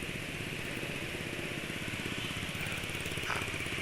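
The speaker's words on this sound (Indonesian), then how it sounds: "Suara mesin halus ini menurut penulis" A small two-stroke motorcycle engine runs steadily at an even idle, a smooth continuous buzz with a fine rapid pulse, close by and unchanging throughout.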